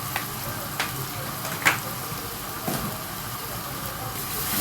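Vermicelli and rice sizzling in oil and ghee, a steady frying hiss with a few small pops and crackles, fairly quiet and close.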